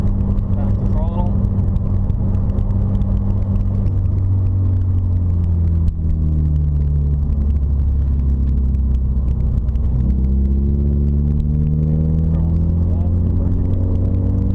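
A car engine rumbles and rises under throttle on a driving track during instruction, with the pitch climbing, easing and climbing again. It is heard loud and steady from inside the car.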